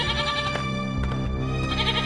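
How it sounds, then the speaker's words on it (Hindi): A cartoon goat tied up inside a village hut bleats loudly and insistently, a couple of wavering cries close up filling the short moment with no speech over them. "उसकी बकरी उसकी झोपड़ी में ही बंधी होती है और काफी चिल्ला रही होती है"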